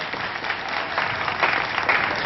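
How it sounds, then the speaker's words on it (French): Congregation applauding in a Haitian French-language evangelical church service, a steady wash of many hands clapping together that holds loud and even for the whole moment. "Applaudis mon Dieu pour parole."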